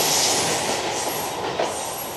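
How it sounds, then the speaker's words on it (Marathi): Train rolling through Mumbra railway station, a loud continuous rumble and hiss of wheels on rails with faint squealing, steady and close, no voices. "सध्या मी मुंब्रा रेल्वे स्थानकावरती उपस्थित आहे"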